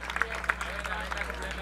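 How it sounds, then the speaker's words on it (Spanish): An audience applauds at a live vallenato performance at a business celebration, a short burst of scattered clapping under a voice speaking over it. "Un fuerte aplauso para acá, para este negocio."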